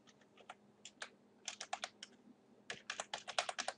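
Someone types a secret key on a computer keyboard: quiet, close keystrokes in two irregular bursts with a short pause between, over a low steady hum, with no voices.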